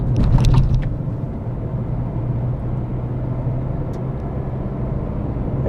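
A Renault Kiger drives fast over a bad road, its steady engine and tyre rumble heard from inside the cabin, with a brief rattle near the start.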